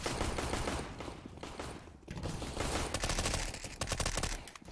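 Dense MP5 submachine gun fire and other weapons during a competitive CS:GO match, sustained rapid bursts, loud and crowded, with a short lull midway before more volleys of rattling shots.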